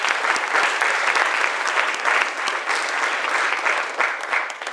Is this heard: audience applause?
yes